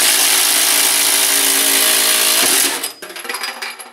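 A Milwaukee M18 FUEL 2653 impact driver bores a 1 1/2-inch hole, its loud, steady motor and cutting roar running for about two and a half seconds before stopping abruptly into scattered clatter.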